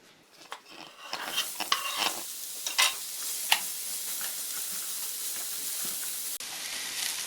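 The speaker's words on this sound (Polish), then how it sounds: "a na patelni podsmażę teraz cebulę" Onions sizzle and hiss steadily in a hot pan, with scattered scraping and stirring clatter from a utensil, close and fairly quiet.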